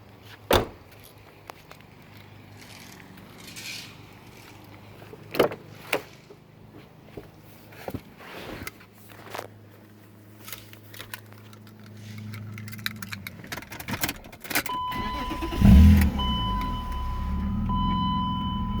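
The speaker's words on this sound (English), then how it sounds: "Alright, I'm gonna go start the car." Scattered clicks and clunks come first, then a 1998 BMW M3 engine cranks and catches near the end, settling into a low running hum.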